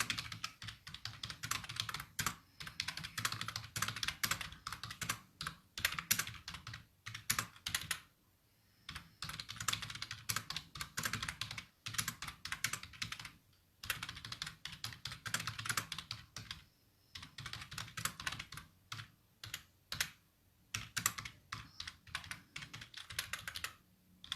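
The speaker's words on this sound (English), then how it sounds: "And I'm just going to write a little bit of text in here." Steady, fast typing on a computer keyboard, close and clear, with dense bursts of key clicks broken by short pauses, alone with no talk.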